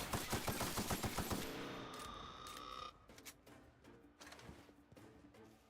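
Gunfire rings out in The Outer Worlds, starting with a fast, close burst of rapid shots. It thins into scattered, fainter single reports over the next few seconds.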